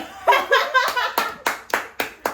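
Handclaps from a small group at a Gangneung restaurant, a short burst of about eight sharp, separate claps that speed into a close, loud run, with light laughter at the start.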